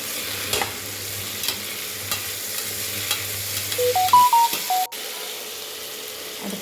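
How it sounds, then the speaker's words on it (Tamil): Tomatoes are stirred into a pan of frying prawn gravy: a steady sizzle, scraping utensil strokes and a brief run of short tonal clicks near the end. "தக்காளியும் போட்டுட்டு அடுத்தது மிக்ஸ் பண்ணி விடணும்."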